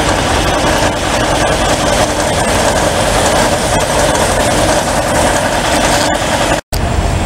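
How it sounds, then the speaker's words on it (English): A vehicle engine idles, its body covered in snow on the first day of spring; a steady, loud, low rumble runs throughout, cut by one brief dropout near the end, with no talk. "As you can hear, engines are running."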